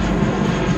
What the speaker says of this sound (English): There goes a loud ass plane.